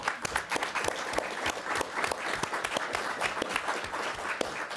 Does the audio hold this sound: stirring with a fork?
no